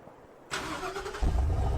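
A Ford F-150 with a 5.0 V8 cranks briefly and fires up, settling into a deep, loud idle rumble, heard up close with no talk over it.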